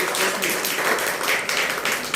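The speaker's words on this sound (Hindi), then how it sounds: "मैम के लिए लड़कियों एक बार जोरदार तालियां बजा दो" Audience of college girls at a science council branch inauguration gives sustained applause, dense and steady clapping filling the whole stretch at moderate loudness without pause.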